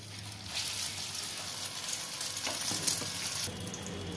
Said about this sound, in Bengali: এবার আমি একটা একটা করে ভাজতে থাকবো